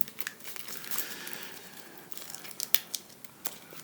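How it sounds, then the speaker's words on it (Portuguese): Board game cards for Cleopatra and the Society of Architects being shuffled by hand, heard as soft papery riffles, crinkles and light snaps in irregular bursts, quiet and close, with no talking. "O mercado, você vai embaralhar todas as cartas, ok?"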